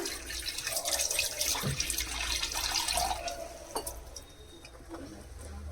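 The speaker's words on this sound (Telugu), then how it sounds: "నేను 5 గ్లాసుల వాటర్ వేస్తున్నానండి మొత్తము" Water is poured into a pot for coconut milk chicken pulao, making a continuous close gurgling stream that trails off into softer drips, with faint birdsong in the background.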